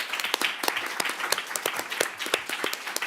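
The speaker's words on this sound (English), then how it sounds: "So I think we should just give ourselves a round of applause." An audience at an international law event breaks into brief applause, with many separate hand claps rattling close together in a lively, uneven patter.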